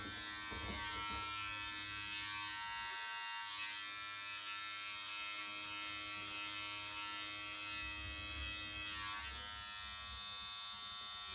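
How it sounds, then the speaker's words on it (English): Electric hair clipper with its blade opened up, buzzing steadily and continuously while cutting hair at home, a faint, even drone with no talking. "I'm just hitting that line and opening up that clipper"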